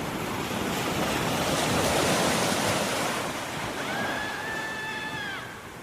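Ocean waves break steadily on the shore at Marblehead, a broad continuous wash of surf with wind; near the end a thin whistling tone glides in and holds briefly above the roar.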